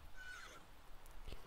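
A horse in the life-simulation game The Sims 3 gives a whinnying neigh. The call is faint and high, followed by a couple of soft hoof-like knocks, with no talk over it.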